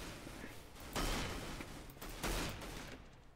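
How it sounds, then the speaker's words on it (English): Two bursts of gunfire from the blocky Minecraft-based shooter Minestrike, each a short loud volley over a steady background hum, about a second apart with no talk. "But might as well fire it."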